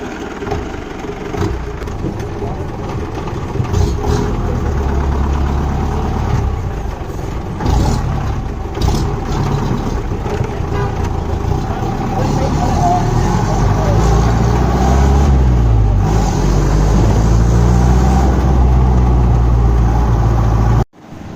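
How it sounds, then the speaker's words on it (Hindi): A jeep engine runs steadily, a loud, continuous low rumble with small shifts in pitch, cutting out abruptly at the very end. "ओके गाइस, तो again we are in our jeep."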